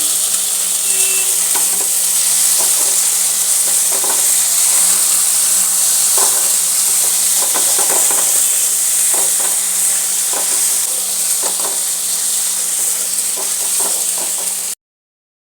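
Tomato and green chilli fry in hot oil in a pan for an egg tarka, with a constant loud sizzle and frequent scraping stir strokes close by.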